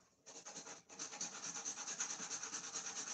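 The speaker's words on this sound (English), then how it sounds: "Me have grater some nutmeg." Nutmeg grated by hand for plantain porridge, a steady run of close, dry rasping strokes that carries on throughout without any talking.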